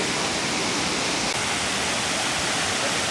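A waterfall high on a hillside in Bangladesh, heard as a dense, unbroken roar of falling water that stays steady and loud throughout, with no voices.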